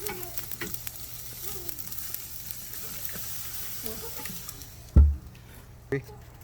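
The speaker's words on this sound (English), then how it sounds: "it's time to flip them one more time as part of the sear" Rubbed steak searing on a flame grill, a close continuous sizzle and crackle with soft spatters, someone talking quietly over it, and a couple of heavy thuds as the meat is flipped near the end.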